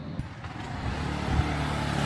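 Motorbikes and other vehicles pass along a neighbourhood street in Phuket, Thailand, with engine rumble building and revving nearby over a steady background of traffic.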